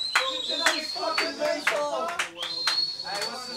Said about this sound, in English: The only judging panel in the world that applauds this excellent score